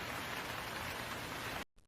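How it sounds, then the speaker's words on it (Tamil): Steady rain falling, a dense even hiss of drops on a surface, close and continuous, ending suddenly near the close with a brief faint trace after. "மழை வேற விடாம பெய்யுது"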